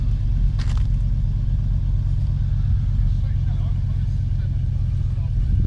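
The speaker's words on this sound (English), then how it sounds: "He's going to have to rev that thing pretty hard to get up on there." A Gator utility vehicle's engine strains to climb up onto a rise, giving a deep, constant close rumble with little change in pitch, heard alone without talk.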